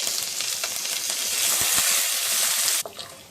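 Cashews, curry leaves and green chillies fry in hot oil for coconut rice, a loud, close, continuous sizzle with faint stirring that cuts off abruptly near the end.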